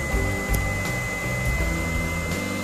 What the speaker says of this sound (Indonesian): ini suara kipasnya makin naik lagi karena bebannya makin berat kan.